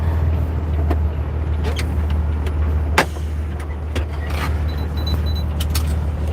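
A stalled truck's diesel engine running a particulate filter regeneration outdoors in snowy winter, giving a steady low rumbling idle with a faint whine, scattered clicks and knocks, and one sharp clunk midway; no speech.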